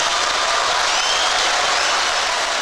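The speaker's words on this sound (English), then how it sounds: "please give it one more time a big round of applause for Dr. Jody Carrington." A large crowd applauds steadily and loudly, a dense wash of clapping hands with no pauses.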